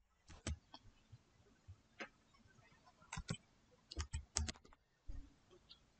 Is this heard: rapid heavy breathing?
no